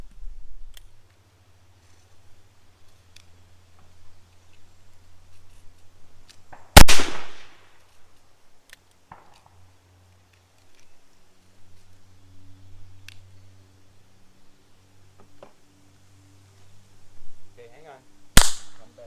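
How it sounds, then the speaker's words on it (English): Two loud, sharp gunshots from a Pietta Remington New Model Army cap-and-ball revolver ring out about twelve seconds apart outdoors, each with a brief decaying tail over low background rumble. "I'm going to see if I can take it out with one of my 6 shots that I have loaded up"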